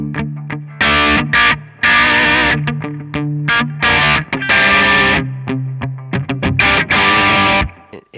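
Electric guitar driven through Effectrode tube pedals into an Orange amp at moderate gain, playing loud crunchy chords and single notes with a slightly chorused, touch-sensitive tone and short pauses between phrases.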